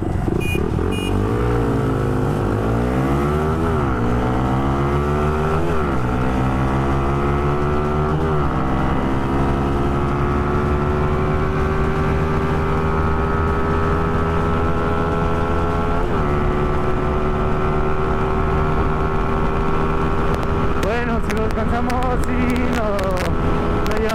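Loud Pulsar N250 or NK 250 motorcycle engine revving up through gears with rising whine, then holding a steady high-pitched drone as it cruises in sixth gear, close to the microphone.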